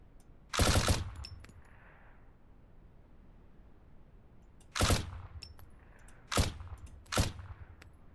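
Gunfire in a video game under development, four sharp separate bursts of shots, the first and second separated by a long quiet gap and the last three closer together, loud against near silence.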